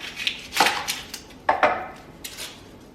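A knife cuts through an onion on a cutting board, with two crisp slicing strokes that thud onto the board, close up and clear against a quiet kitchen background.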